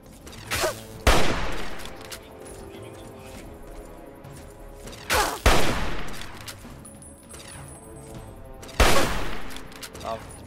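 Rifle gunfire in the video game Fallout 3: three loud bursts of shots with sharp cracks about four seconds apart, over a steady low background of game ambience.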